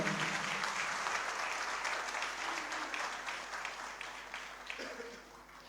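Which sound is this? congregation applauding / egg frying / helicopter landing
congregation applauding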